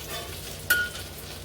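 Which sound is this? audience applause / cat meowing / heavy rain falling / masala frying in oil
masala frying in oil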